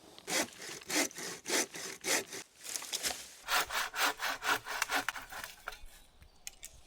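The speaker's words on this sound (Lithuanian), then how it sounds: "Pats geriausias pjūkliukas. Turistinis. Už 5 eurus." A cheap five-euro camping hand saw cuts through wooden beams while a treehouse wall is built about 3.5 m up. Steady, close back-and-forth strokes rasp rhythmically, pause briefly, then resume in a quicker run before trailing off.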